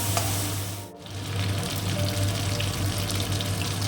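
Prawns being lifted out of hot frying oil, a dense steady sizzle with a brief dip near the start, then continuous bubbling hiss at close range, no talk.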